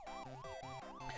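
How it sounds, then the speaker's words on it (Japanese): A police car siren in a video game, the wailing tone sweeping up and down in a quick repeating cycle, about three rises in a second, clear and steady, with no voices over it. "遠くからサイレンのような音が近づいてきました"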